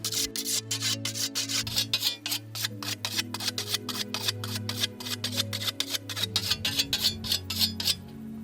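Steady rhythmic rasping of a whetstone drawn quickly back and forth along a scythe blade, many strokes in a row, close by over a low background hum, in Mala Gora, Slovenia.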